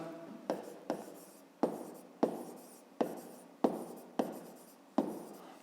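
Pen strokes on paper while a fifth-grade math solution is written out, eight sharp scratching strokes at roughly even intervals, each trailing off, close and clear with no talk.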